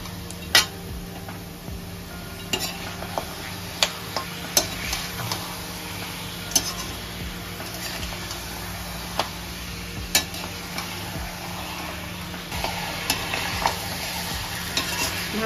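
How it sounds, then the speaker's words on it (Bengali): A spoon scrapes and knocks through mutton coated in spices and ground black pepper in a pot, under a constant low sizzle, with sharp clicks against the metal recurring every second or two. "ভালো করে নাড়াচাড়া করে নিলাম।"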